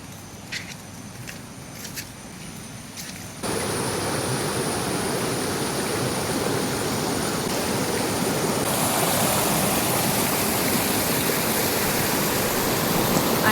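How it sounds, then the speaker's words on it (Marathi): Tambuli waterfall in a green Konkan forest, a dense steady roar of falling water that starts softer and then swells loud and constant as the base of the fall is reached, no voices. "आणि अखेर त्या सुंदर पायवाटेचा प्रवास पूर्ण करून आपण या मनमोहक धबधब्याच्या पायथ्याशी येऊन पोचलो आहोत"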